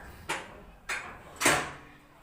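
Three sharp knocks or latch clatters from a home door being opened, evenly spaced and fairly close, with no talking.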